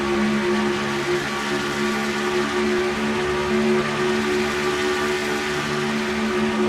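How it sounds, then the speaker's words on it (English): Steady, sustained engine drone from a roof-mounted camera on the Quaker State Ford race car at Atlanta, a constant loud whine with strong steady tones and no break or talking. "You listen to that engine, now you see why I said Atlanta is an engine builder's nightmare."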